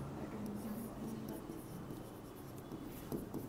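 Chalk or marker scratches steadily across a board during a chemistry lecture, a faint continuous rubbing with short strokes, low and close in a quiet room.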